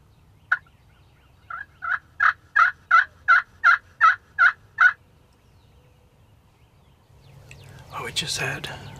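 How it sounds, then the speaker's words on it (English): A series of about ten rapid, rhythmic gobbles rings out from a distant wild turkey. Then a rustle and low whispering follow close by. "The birds were very vocal and active"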